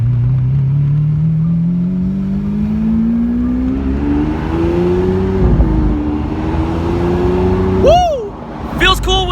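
An Italian sports car convertible with the top off pulls away, its engine droning steadily and climbing in pitch as it accelerates, then a short rev burst near the end, with voices over it.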